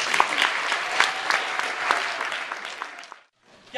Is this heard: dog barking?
no